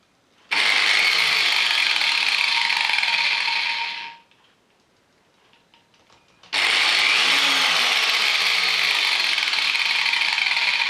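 A high-pitched angle grinder whine at 11,000 rpm runs loud and steady for a few seconds, drops away to near silence, then spins up again at full speed.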